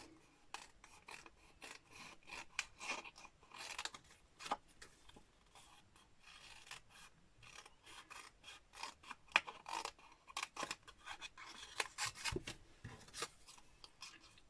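Scissors fussy cut a paper candle image for a handmade Stampin' Up greeting card, producing a steady run of close, crisp snips and rasping paper slices with short pauses and no talking.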